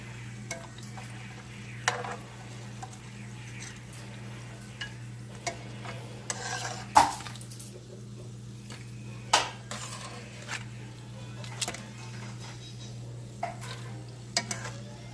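Homemade chips frying in hot grease, a faint steady sizzle with soft clinks and taps of a utensil against the pan now and then, quiet and close.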